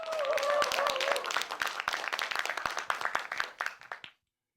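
An audience claps to welcome a lecturer at a Justice Party citizens' talk. The applause starts full, then thins into scattered separate claps and stops abruptly.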